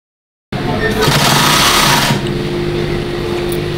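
An industrial sewing machine runs a burst of stitching along the side seam of cargo pants, a steady mechanical whir that lasts about a second and a half before settling into a lower hum.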